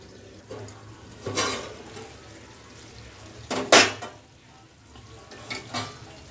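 Chicken frying in a pan over low gas, a quiet background sizzle broken by a few louder bursts of spatter and stirring, heard close with no talking.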